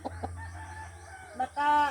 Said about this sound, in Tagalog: mayroon din akong dalawang manok